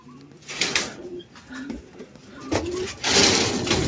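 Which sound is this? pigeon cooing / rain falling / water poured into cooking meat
pigeon cooing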